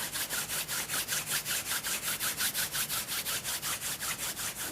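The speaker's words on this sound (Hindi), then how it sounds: "अपने दोनों हाथों को रब करेंगे" Both hands rubbed briskly together, a steady, rhythmic swishing friction repeating about five times a second, close and continuous with no talk.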